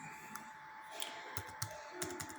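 Keys clatter on a computer keyboard while someone types a search query into a website's search box, a quick uneven run of soft, close clicks over faint room hiss.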